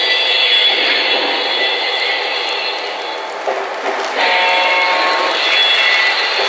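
Model SP RS-3 diesel locomotive running steadily and picking up speed, a continuous electric whine and hum with a brief dip midway before rising again, close and fairly loud with no voices.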